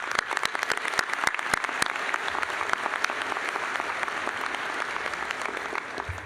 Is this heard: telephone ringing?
no